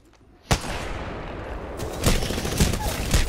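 Sniper rifles fire in Apex Legends, with one sharp loud shot followed by a dense roar of gunfire and several more cracks spaced unevenly, close and intense.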